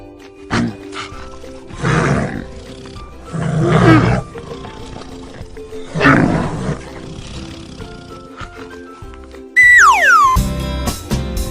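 Bear roaring as a sound effect in an Urdu alphabet lesson: three loud, rough, drawn-out roars spaced a couple of seconds apart, followed by a sharp descending whistle-like tone near the end.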